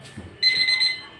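A kitchen-style countdown timer alarm for a water drinking challenge goes off with a quick run of high, piercing electronic beeps, close and loud, after a brief moment of low murmuring.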